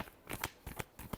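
Tarot cards are riffled in a short burst of crisp flicks, close and quiet, with several quick snaps over about a second.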